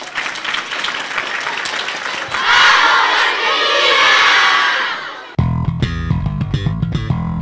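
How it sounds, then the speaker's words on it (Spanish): A studio crowd bursts into loud applause and cheering for the winners of a World Cup raffle on a local news broadcast. The applause swells, holds for a few seconds, then cuts abruptly into music. "Vamos a darle un fuerte aplauso a todos los ganadores."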